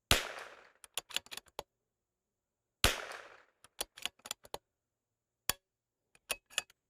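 Two sharp .22LR rifle reports fired with heated ammunition, spaced a few seconds apart, each followed by a scatter of small metallic ticks and clinks, with no talking.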